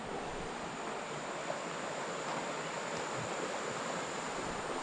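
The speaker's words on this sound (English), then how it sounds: "Can you hear the stream?" A stream flows near Tagbo Waterfalls in Ghana's Volta Region, a soft, even broadband rush of water heard at a distance, faint and continuous with no voices.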